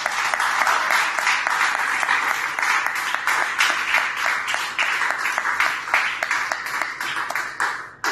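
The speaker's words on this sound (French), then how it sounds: "On acclame le Seigneur." Congregation applauding during a church worship service, dense rapid clapping sustained for the whole stretch, loud and close with no talk over it.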